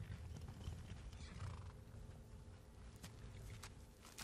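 Horse in the video game Skyrim, with clip-clopping hooves and a neigh or whinny, faint and fairly close against a low ambient game background, no talking over it.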